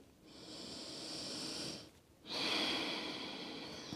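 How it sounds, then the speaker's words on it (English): Slow, deep yoga breathing, a long airy inhale followed by a brief pause and then a long, fuller exhale, close and steady with no talking. "Taking longer, deeper inhales. Longer, deeper exhales."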